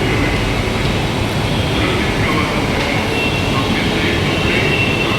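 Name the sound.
metro train at a Mumbai metro station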